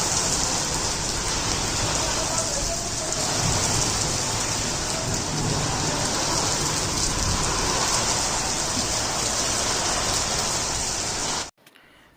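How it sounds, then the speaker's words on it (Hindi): Heavy rain pours down in a steady, dense roar that holds evenly for about eleven seconds and then stops abruptly, with no voices present. "बहुत तेज बारिश आ गई थी"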